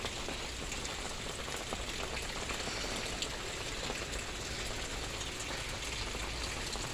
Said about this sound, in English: I just wanted to show you the rain.